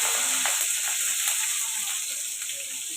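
Green chillies and tomato fry in a pan with cumin seeds, giving a bright, steady sizzle with faint stirring clicks, close and continuous with no talk.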